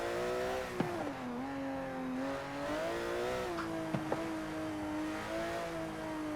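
A Porsche 917 LH race car in Forza Horizon 4 revs hard, its engine note climbing and falling through long-stretched gears of a five-speed box, with brief shift blips and steady loud drone, no voices.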